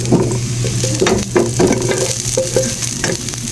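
Garlic and vegetables sauté in a hot pan with a steady, close sizzle, broken by clattering stirs and scrapes of a utensil against the pan.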